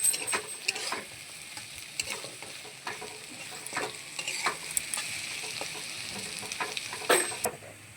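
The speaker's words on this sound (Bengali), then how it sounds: "এবার আমি এটাকে একটুখানি নেড়ে নেবো, হালকা একটু লাল করে নেবো।" Onions and potatoes fry in oil as a spoon stirs them, a soft steady sizzle punctuated by intermittent scraping and clinking strokes against the pan, close and moderate.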